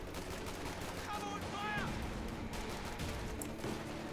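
Machine gun fire from an MG34 rattles in the Company of Heroes 2 video game, with bursts sitting low in a busy battlefield mix that also holds other distant combat noise.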